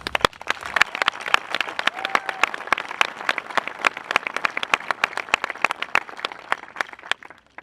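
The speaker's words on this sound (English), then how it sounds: "especially the graduating class, deserves a round of applause." A graduating class and crowd applaud at a high school graduation ceremony, with sharp, separate claps from nearby hands over a steady spread of clapping that keeps going for several seconds.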